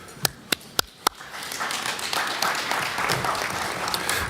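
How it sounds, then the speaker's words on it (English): Applause in a parliamentary committee hall, opening with a few sharp, isolated claps that swell into sustained clapping from a large audience, steady and moderately loud to the end. "many applause for you in our hall"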